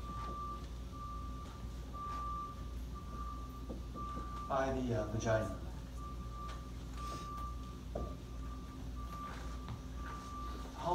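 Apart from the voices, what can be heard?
truck reversing beeps outside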